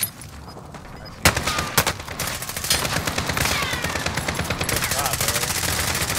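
Gunfire in a Call of Duty: Modern Warfare match, sharp single shots followed by a steady rapid machine-gun stream, loud and close, with players talking over the shooting.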